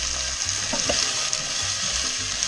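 Diced peppers and carrots sizzling in a hot pot, a loud close crackle of frying with faint stirring and clinking underneath, steady throughout with no talk.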